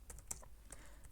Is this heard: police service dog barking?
no